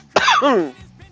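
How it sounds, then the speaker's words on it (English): A single short, throaty cough up close, with a rough raspy burst. "Something in this is making me cough."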